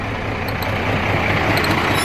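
Truck engine running steadily close by, a continuous low rumble with a faint hiss of air on top, loud and unbroken throughout with no talking.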